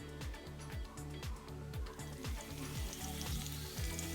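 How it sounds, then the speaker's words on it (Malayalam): Shallots sautéing with crushed ginger and garlic for a stone-crushed meat dish, a loud continuous sizzle close up with regular rhythmic scraping strokes of a spatula against the pan. "ഇഞ്ചി വെളുത്തുള്ളി ചതച്ച് വെച്ചത് അതിനോടൊപ്പം തന്നെ ഇട്ട് നമ്മൾ വഴറ്റിയെടുക്കുന്നു"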